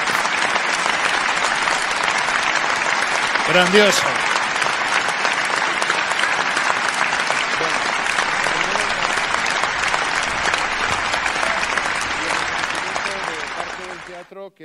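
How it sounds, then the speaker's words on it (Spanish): A theatre audience at the Teatro Reina Victoria gives sustained, loud applause for an honoree, a dense wash of clapping lasting over a dozen seconds, with a brief voice calling out amid it before the applause fades at the end. "Así que aplauso fuerte para don Manuelo."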